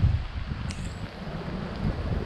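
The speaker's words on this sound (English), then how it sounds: "Wind's still getting up pretty heavy here" Strong, gusty outdoor wind in the aftermath of Hurricane Helene, a steady low rumbling buffet against the microphone with no talking.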